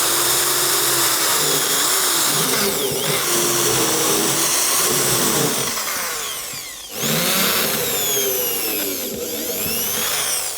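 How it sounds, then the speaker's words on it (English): A power drill bores pilot holes into pine and redwood for a bee nuc box, its whining motor running loud and close with pitch sweeps as it speeds up, briefly dipping around the middle before starting again. "So now we're going to want to do ourselves some pilot holes."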